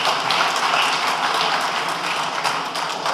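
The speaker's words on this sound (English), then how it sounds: "Give him a round of applause," A crowd gives a round of applause at a political event, a dense, steady wash of many hands clapping that stays at an even level for about three seconds.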